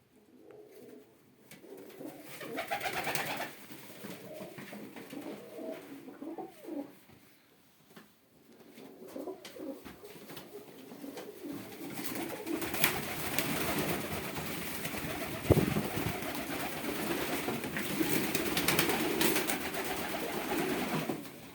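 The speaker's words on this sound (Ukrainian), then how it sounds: "Єйські двочубі голуби." Yeysk double-crested pigeons coo softly and repeatedly against a noisy outdoor background, with a few sharper rustles and no one talking.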